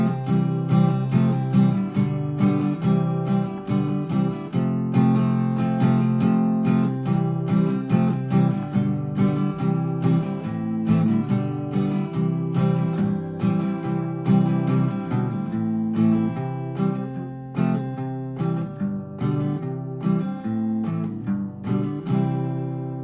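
An acoustic guitar plays the outro of a song, strummed chords in a steady rhythm, close and alone without any voices.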